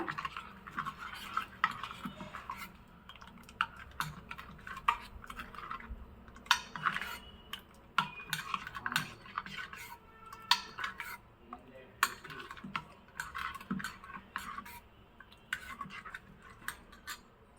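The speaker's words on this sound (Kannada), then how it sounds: "ಈಗ ಚೆನ್ನಾಗಿ ಮಿಕ್ಸ್ ಮಾಡ್ಕೋಬೇಕು" A spoon stirs thick curd mixed with salt in a bowl, producing rapid irregular clinks and scrapes against the bowl's side, close and fairly quiet, with no talking.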